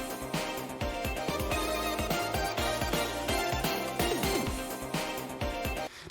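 Looped in-game version of a video game's mall stage music at its ending: dense, rhythmic game music with a steady beat that plays at full level throughout and cuts off without fading out.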